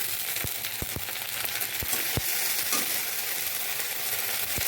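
Garlic paste and ginger-green chili paste sizzle in hot oil with browned onions for an egg and soya chunk dish, a steady close frying hiss broken by several sharp spoon or utensil taps against the pan.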